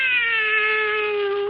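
A black cat gives a single drawn-out meow in a 1974 radio drama, clear and close, a sustained tonal cry that slowly falls in pitch and holds for about a second and a half.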